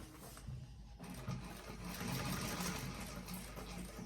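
A sewing machine stitches slowly along the curve of a fabric bag, its quiet, steady mechanical whir starting about a second in and running evenly to the end.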